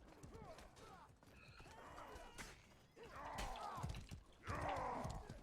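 Horse hooves clop and a horse neighs amid clashes and thuds in a medieval war simulator video game, with layered overlapping effects rising in intensity toward the end.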